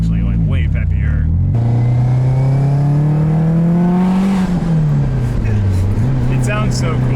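A right-hand-drive Japanese-market turbo hatchback accelerates hard at full boost, its engine drone climbing steadily in pitch, easing briefly, then pulling again, loud and continuous inside the cabin with people talking over it.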